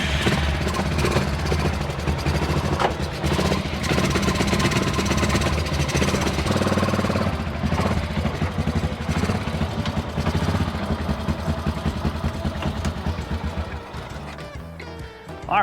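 A small engine on a homemade mini 4x4 runs loud and close under its own power on a night trail drive, a dense, uneven rattling drone that holds steady for the whole stretch.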